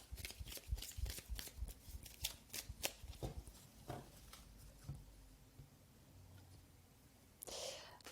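Tarot cards handled during a love reading, with a quick run of soft close riffling flicks and taps, scattered slides, then a faint rustle, alongside quiet whispery speech.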